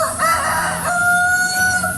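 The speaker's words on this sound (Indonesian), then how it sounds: "banyak sekali suara-suara ayam berkokok" Roosters crow in a leafy village, two or more long rising calls overlapping nearby with soft clucking and distant fowl in the background.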